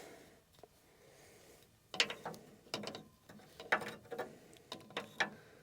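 A wrench works on brass air line fittings on a diesel bus, giving a series of sharp metallic clicks and ratcheting bursts close by, with quiet gaps between turns.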